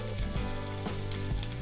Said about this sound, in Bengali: ভেজে নিয়ে এর মধ্যে আমি দিয়ে দেব পেঁয়াজ কুচি